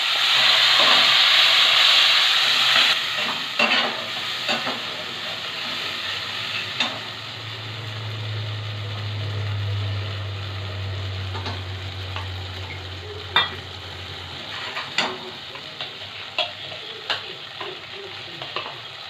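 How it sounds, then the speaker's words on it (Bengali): Spiced yogurt mixed with cashew paste, chilli powder and turmeric stir-fried in a kadai for a Bengali doi potol recipe, a steady frying sizzle under repeated scraping and stirring strokes, close and fairly loud throughout. "মশলাটা ভালোভাবে কষিয়ে নিয়ে"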